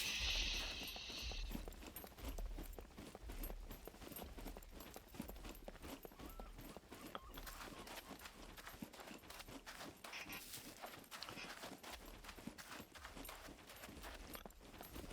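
Mechs stomp in the survival video game SCUM, heard as a dense run of heavy rhythmic thuds under steady ambient noise, growing busier as the listener approaches, with no talking.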